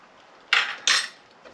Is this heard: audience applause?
no